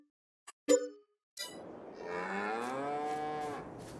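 A cow in Farming Simulator 22 gives one long, close, drawn-out moo in a base-game cattle pen, preceded by a few short metallic clinks and a brief pause.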